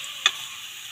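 Garlic frying in a pan until brown, for Bicolano-style squid: a steady, even sizzle with one small tick near the start.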